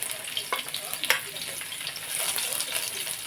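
Garlic and peanuts fry in hot oil for a poha snack, a steady close sizzle with soft stirring scrapes and a few brief louder crackles.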